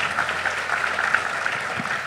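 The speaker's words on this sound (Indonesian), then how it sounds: "Tepuk tangan dulu dong buat tim Malaka." An audience claps steadily for the Malaka team, a dense and even wash of applause with no pause.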